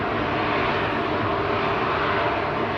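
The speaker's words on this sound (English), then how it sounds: "Jet2's LS852 from Funchals just touched down." Jet2 passenger jet touching down at Manchester Airport, a steady, loud broadband engine roar that holds evenly throughout without a break.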